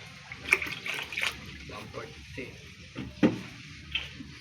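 Wet scraping and stirring as cement is mixed with water for a roof deck repair with waterproofing, in short uneven strokes with a few sharper knocks, under people talking nearby.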